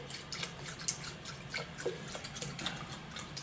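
Soy milk pouring into a measuring cup, a soft trickling and dripping liquid sound, faint and close, with small irregular splashes throughout.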